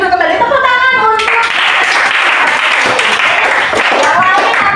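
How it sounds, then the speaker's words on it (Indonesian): Students in a classroom break into loud, sustained clapping that fills several seconds, cutting in right after a teacher's spoken voice and continuing steadily to the end. "tepuk tangan untuk"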